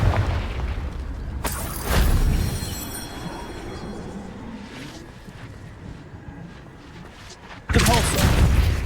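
A Confringo blasting spell in Hogwarts Legacy goes off as two loud booming bursts, one early and one near the end, with rumbling game ambience and a voice in between.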